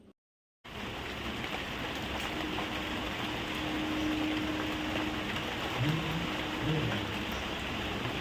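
Heavy rain pours outside, a dense and even hiss heard from indoors that starts after a brief silence and holds steady throughout.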